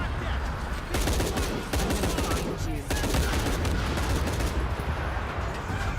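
Light machine gun fire in Shadow of the Tomb Raider: loud, sustained rapid bursts of gunshots that barely pause across the whole stretch, dense and close, with heavy low-end booms under the rattling reports.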